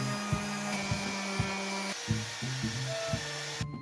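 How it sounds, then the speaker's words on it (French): A power sander whirs steadily against wood, its tone dipping in repeated short strokes as it is pressed and moved across the surface. "Donc je vais essayer avec une autre ponceuse."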